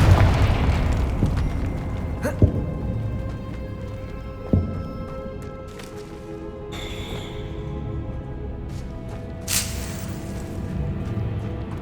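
A Confringo spell explodes in Hogwarts Legacy on PS5, with booms and sharp bursts at intervals over a dense rumbling game soundscape that holds the same level throughout.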